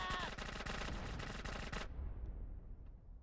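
Rapid automatic gunfire in the GTA San Andreas video game during a ship raid, a dense rattling burst that stops abruptly before two seconds, leaving a fading low rumble.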